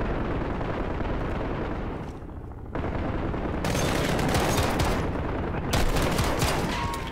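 Automatic weapon fire in Modern Warfare, dense bursts of loud gunfire with a brief lull near the middle, then sharp repeated shots and heavy reverberating blasts resuming to the end.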